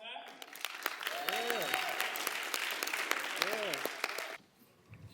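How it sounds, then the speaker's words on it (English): A room full of people applauds at a school athletes' award event honouring high academic achievers, with steady clapping for about four seconds while a presenter talks over it, then the applause drops away abruptly. "A round of applause"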